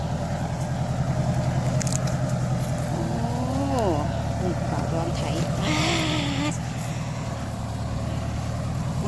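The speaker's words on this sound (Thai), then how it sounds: "เดินตามรถไถพี่ให้น้องดูเนาะจ้ะ" A farm tractor plowing a cassava field, its engine a steady close drone running throughout, with people talking over it.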